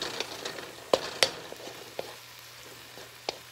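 Spinach and butter in a frying pan are stirred over a quiet sizzle, with several sharp utensil clicks and taps scattered irregularly; close, fairly faint, with no talking.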